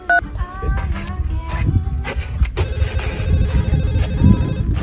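A telephone rings in an indoor setting, its repeated electronic ringtone tones standing out early over a low, busy background of voices and movement before the call is answered.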